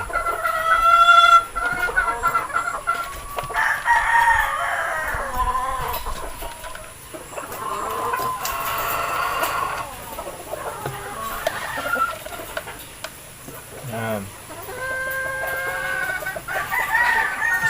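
Fighting roosters cluck and crow loudly while being fed, with repeated calls from several birds close by throughout and no talking.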